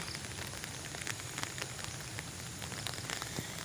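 Steady rain pattering on surfaces beside a newly planted pineapple field, a dense close hiss with scattered droplet ticks and no talking.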